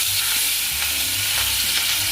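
A katla fish piece slides into hot soybean oil and fries with an even, loud hiss and crackle, steady throughout, close to the pan.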